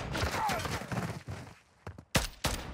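Gunfire from the video game Modern Warfare 3: a rapid stream of close weapon shots fills the first half, then two or three sharp isolated bursts crack out after a brief lull, with faint talk mixed in.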